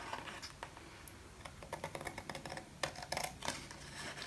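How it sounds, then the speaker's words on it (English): Cardstock being trimmed along its edge, a quiet series of small snips and clicks in an uneven rhythm, faint and close. "Just going to trim along the edge there like that"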